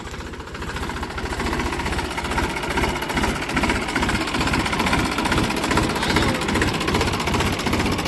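A tractor engine runs steadily and loud throughout, close by, with a dense rhythmic knocking diesel chug, on a farm while trench soil is loaded into a trolley.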